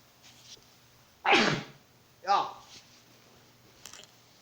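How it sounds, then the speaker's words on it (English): Two sharp sneezes about a second apart stand out against quiet background with faint clicks, the first louder and more explosive than the second. "Yeah, I hate sneezing."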